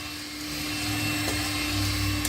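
A Makita 18-volt cordless vacuum runs steadily, a continuous whirring motor drone with a constant hum, fairly close and alone without speech.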